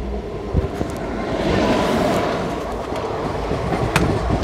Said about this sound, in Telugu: 3వ నెంబర్ ప్లాట్ఫామ్లోకి కృష్ణ ఎక్స్ప్రెస్ వస్తుందంట